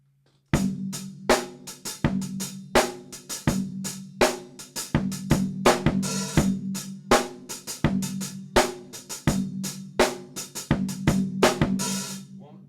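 Drum break beat played on a kit, a steady loop of punchy kick and snare hits with busy hi-hats, recorded close and loud with no talking.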